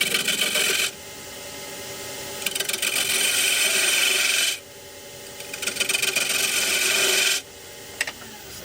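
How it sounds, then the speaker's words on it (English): Spindle gouge cutting a multi-axis candlestick holder spinning on a wood lathe, giving a bright, hissing scrape that comes in three long bursts with short gaps between them, close and loud. "So using the spindle gouge again"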